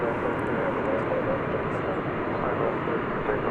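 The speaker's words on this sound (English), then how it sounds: "American Airlines Flight 2193 arriving from Tucson, an Airbus" An Airbus A321 jet airliner, American Airlines Flight 2193 from Tucson, arrives at DFW Airport on a warm day. It makes a steady, loud, broad engine roar that holds evenly for the whole stretch without fading.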